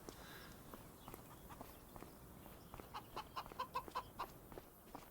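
Chickens on a farm in the Farming Simulator 25 video game cluck in a short run of bright, rhythmic calls that grow louder toward the end, over a soft farmyard background with light footsteps.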